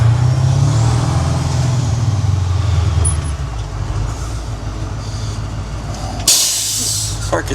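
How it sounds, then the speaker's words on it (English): Air brake on a farm truck releasing with a sudden loud hiss near the end, over a steady low engine idle and rail-like rumble. "Air brake off."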